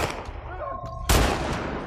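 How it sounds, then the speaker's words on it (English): Burst of gunfire in a video game, a sudden loud volley of shots after quieter game sounds, short and close. "Shots are fired."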